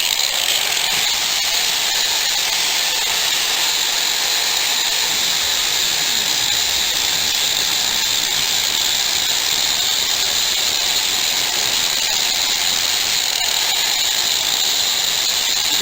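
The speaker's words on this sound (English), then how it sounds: "I'm going to work on the blade just a little bit with the grinder and see if I can get rid of some of this rust." A bench grinder works rust off a pitted, scratched custom knife blade, a steady loud hissing whir that holds without pause throughout, with no voices.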